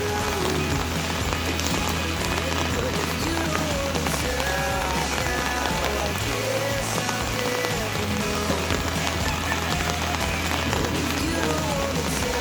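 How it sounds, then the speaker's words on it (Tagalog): Heavy rain pouring down during a storm from a low-pressure area, a dense, loud, continuous hiss of rain drumming on surfaces close by, with faint voices underneath. "Ang lakas kasi ng ulan kanina eh."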